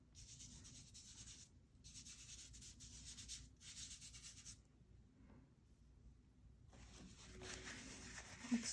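Mungyo oil pastels rubbed across paper in an art studio give soft, close, papery scratching in long strokes with short pauses between them, faint and steady, with no voices.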